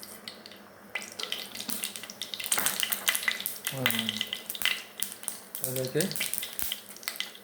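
Mustard seeds sizzling and crackling in hot oil in a home kitchen, a fairly quiet continuous fry with brief surges, under intermittent talk.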